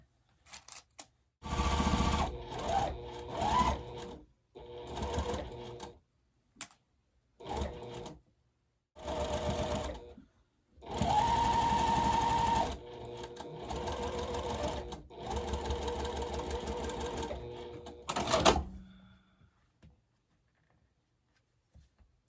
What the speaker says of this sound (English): And now we'll sew the bottom row on